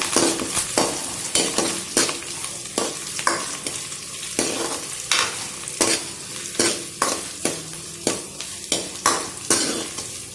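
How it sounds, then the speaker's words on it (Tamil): Onion and curry leaves fry in sesame oil with a steady sizzle while a spoon stirs the pan, scraping and knocking in a regular rhythm of sharp metallic strokes, close and loud with no talking. "நல்லா கிளறி விடுங்க. வெங்காயம் நல்லா வேகட்டும்."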